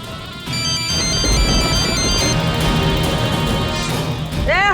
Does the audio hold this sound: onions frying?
no